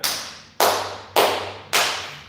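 Four crisp hand claps on the beat, evenly spaced about half a second apart, each sharp attack with a short decay, close and loud, with a faint low tone underneath.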